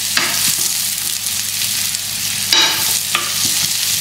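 Ingredients browning in butter and oil in a pan, a steady loud sizzle with occasional scraping stirs and brief louder bursts, no talk.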